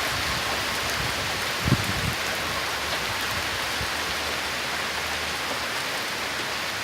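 Torrential downpour during a storm with strong winds, a dense, steady hiss of heavy rain that never lets up, with one small thump partway through.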